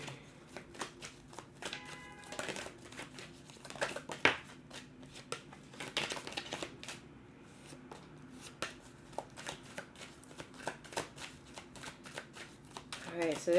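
Tarot cards are shuffled by hand in repeated quick riffling bursts of papery flutter, fairly close and soft, with a voice faintly present at moments.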